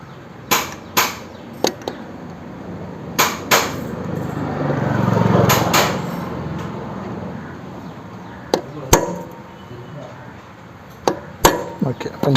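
Sharp metallic hammer strikes on a center punch, marking a broken oil filter cap bolt on an NS/RS 200 motorcycle engine, ring out at irregular intervals, some in quick pairs, with quiet gaps and a brief low rumble midway.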